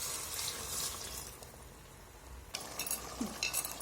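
A glass of water is poured over chopped drumstick pieces in a cooking pan for drumstick oil gojju, a steady splashing hiss that starts, pauses and then returns louder and more broken near the end.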